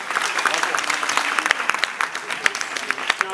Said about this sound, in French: Je vais demander d'applaudir tous les candidats, même les plus petits, qui ont fait la dictée